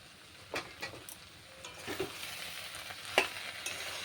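Chopped ash gourd and prawns stirred in a kadai give a string of distinct spatula scrapes and clinks over a low, steady sizzle, each stroke close and clear.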